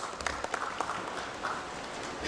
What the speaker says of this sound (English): can we have a huge round of applause for these panelists?